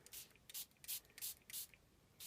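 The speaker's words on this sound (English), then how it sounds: "I'm going to try this one with a spray bottle." A handheld spray bottle mists water onto paper pumpkins in short hissing bursts, about eight quick squirts in an uneven rhythm, close and fairly quiet.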